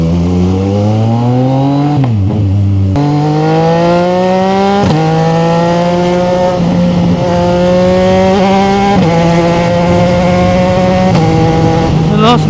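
A 2025 CFMOTO 675NK motorcycle engine holds a loud, steady high-RPM drone, the pitch climbing in several stepped surges as it accelerates through gears, close to the microphone throughout with no talk.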